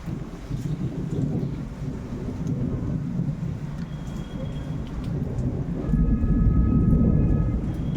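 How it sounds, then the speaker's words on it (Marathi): Deep rolling thunder rumbles continuously over a steady wash of rain in an unseasonal pre-monsoon storm in Maharashtra, swelling louder toward the end, with no voices. "भीती वाटावी असं वादळ वारं पावसाच्या सरी गडगडणाऱ्या विजा"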